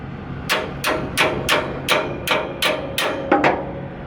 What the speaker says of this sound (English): Hammer this one down.